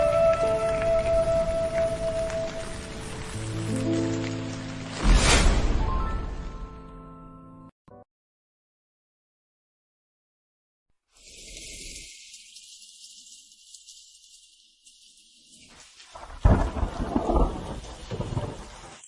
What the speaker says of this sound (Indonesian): Hujan deras seperti ini